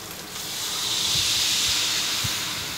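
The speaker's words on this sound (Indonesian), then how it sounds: "sekarang kita mau tuangkan sedikit air." Water poured into a hot pan while cooking noodle soup with cheese, shrimp and meatballs sets off a loud, sustained sizzling hiss that swells after the first moment, with a few soft knocks underneath.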